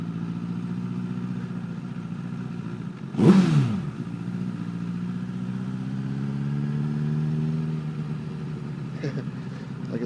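A Honda CBR1000RR sport motorcycle cruising through a neighborhood, its engine holding a steady mid-pitched hum with a brief sharp clatter partway through, heard close under faint wind.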